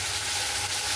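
Ridge gourd fries in a pan with a steady, close hiss of sizzling oil that holds unbroken throughout.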